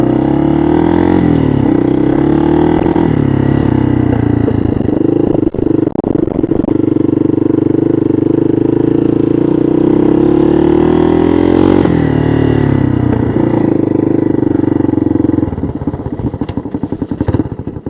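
A Honda ATC 225DX three-wheeler idles loudly and close, a steady throbbing engine drone that wavers slightly in pitch before the level dips near the end, with no speech over it.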